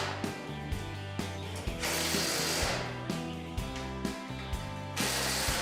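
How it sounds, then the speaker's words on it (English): Stainless steel bolts being tightened with a hand ratchet during boat assembly, giving a loud, close pawl clicking in repeated quick bursts with short pauses between strokes, with no voices. "Make sure you tighten all of the bolts."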